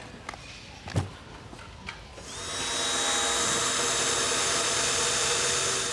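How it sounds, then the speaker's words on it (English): A drill bores into steel, starting small before the hole is enlarged: after a few faint knocks, a steady high-pitched whine starts about two seconds in and holds loud and continuous to the end. "it's harder to drill the steel"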